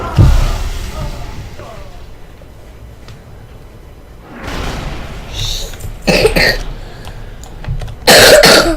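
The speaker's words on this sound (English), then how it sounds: "Cough, cough." Several separate coughs and throat clears, close and fairly loud, come in short bursts after a long quiet stretch, the last ones the harshest.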